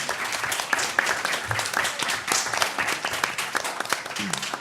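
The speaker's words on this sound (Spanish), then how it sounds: "Alguien pide un aplauso por las presentaciones." Listeners at an academic conference session applaud the presentations, a steady burst of many hands clapping close by that runs throughout without fading.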